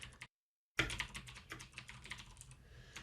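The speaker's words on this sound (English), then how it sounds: "just begin typing" Rapid typing on a computer keyboard, a brief burst of keystrokes, a short pause, then steady close clicking that continues on its own.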